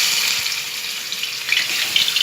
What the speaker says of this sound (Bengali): এই ম্যারিনেট করা চিকেনটাকে এবার আমি একটু হালকা ব্রাউন করে ভাজছি।